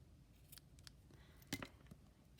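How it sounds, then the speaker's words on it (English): Scissors snipping navy blue ribbon for a Christmas hanging shaker ornament: a few quiet, close blade clicks, with one slightly sharper cut near the end. "I'm just going to cut it a tiny bit shorter."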